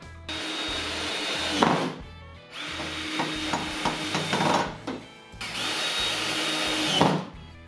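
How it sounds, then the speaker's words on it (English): Power drill driving screws to attach hinges to wooden model railroad benchwork, three sustained whirring bursts with short pauses between them, close and loud with some rattling. "We first attach the hinges with 2 screws each."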